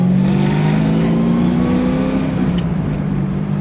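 A Datsun 240Z's engine revs up under acceleration while driving, a steady rising drone from inside the car that climbs in pitch, then eases slightly near the end, with no talking.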